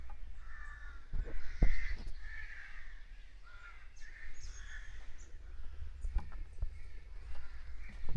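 Crows cawing in woodland, a few calls spread across several seconds against a quiet background, moderately distant.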